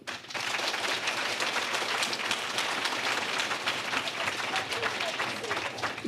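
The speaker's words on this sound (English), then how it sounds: "please clap now." An audience claps together to vote on plant choices at a garden talk, a steady dense wash of applause lasting several seconds at moderate distance with no speech over it.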